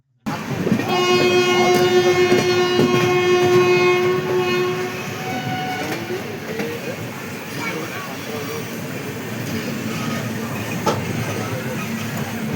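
A loud train horn blares for several seconds, then the rumble and clatter of a running passenger train continues steadily, close by, near Kazipet Junction.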